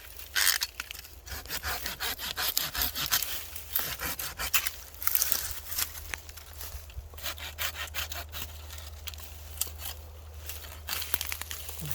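Close, rhythmic rasping strokes of a hand saw cutting through branches of a large pine tree outdoors, with crackles of wood and a low steady hum beneath.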